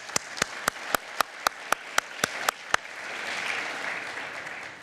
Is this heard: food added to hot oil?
no